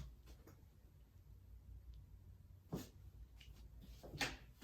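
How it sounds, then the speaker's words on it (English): A door closing indoors during a home tour, a soft thud followed by a second knock, faint against quiet room tone. "I'm gonna close the door."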